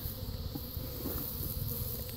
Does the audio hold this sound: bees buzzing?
yes